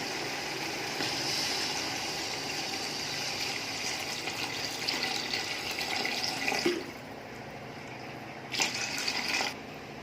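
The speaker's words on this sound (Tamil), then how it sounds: "இப்போ நம்ம 800 ml வாட்டர் ஊற்றிக்கலாம்" Water poured steadily into a cooking pot while making chicken dum biryani, a continuous close splashing rush that drops off partway through before a brief final trickle.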